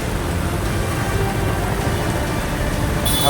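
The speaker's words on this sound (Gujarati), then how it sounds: "વરસાદ ચાલુ છે" Heavy monsoon rain pours down steadily in Deesa, Banaskantha, a dense loud hiss of drops on surfaces throughout, with no voices.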